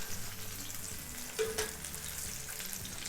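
Mozzarella-stuffed meatballs fry in a pan with a soft, continuous sizzle and a brief clink as they are turned, quiet and close with no voices.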